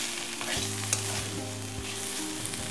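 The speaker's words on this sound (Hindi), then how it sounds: "हरी मिर्च डाल के 1 मिनट तक फ्राई कीजिए, अच्छे से हिला लीजिए" Green chillies fry and sizzle in a pan on the stove, with a steady crackle broken by several scraping stir strokes. A constant low hum runs underneath.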